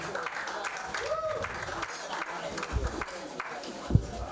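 Steady audience applause fills the room, a dense wash of clapping with voices mixed in and a few louder thumps near the end.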